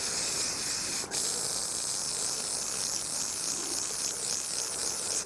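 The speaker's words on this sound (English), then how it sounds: "this is really like detail spray. And you can spray it all over here, but it goes everywhere." A steady hiss of detail spray sprayed onto a rag runs continuously for several seconds, close and fairly loud, with a brief dip partway through.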